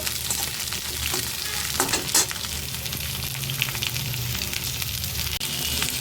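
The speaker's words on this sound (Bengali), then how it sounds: "পটলগুলোকে আমি একটু লাল লাল করে ভেজে নেব।" Pointed gourd pieces frying in oil give a continuous sizzle, with occasional spatula scrapes and small pops over the steady crackle.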